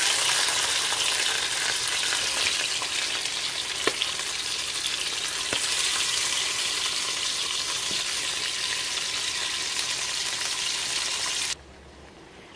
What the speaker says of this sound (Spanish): ya está caliente mi aceite